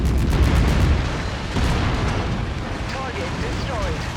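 A destroyed target explodes in the MechWarrior 5 Mercenaries video game with a loud, sustained rumbling boom that fades gradually, layered with dense crackling debris and game noise, while a voice briefly speaks beneath it.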